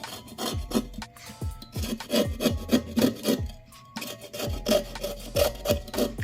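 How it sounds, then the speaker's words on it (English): A craft knife scrapes around the rim of an epoxy-coated tumbler cup in quick, rhythmic rasping strokes, with a brief pause midway before the steady scraping resumes. "Now to clean the rim, you're going to need a craft knife."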